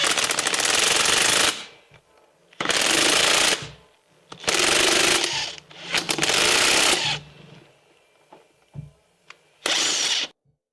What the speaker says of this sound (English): use our dewalt gun to impact it in, and it'll push our joint out like so